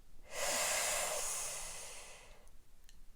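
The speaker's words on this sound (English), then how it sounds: "Breathing in" A single deep inhalation, a close, breathy rush of air that swells quickly and tapers off over about two seconds, then quiet.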